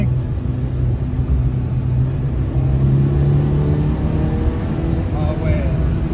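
A 1979 Peugeot 104 ZS2 accelerating hard, its engine a loud, steady, droning roar heard from inside the car, with the pitch rising slightly as it pulls.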